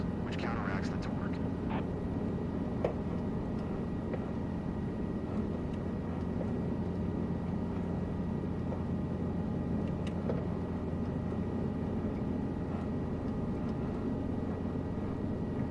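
A helicopter in Microsoft Flight Simulator 2024 on PS5 holds a steady, droning rotor and engine hum at an even level throughout, with faint clicks and no one talking.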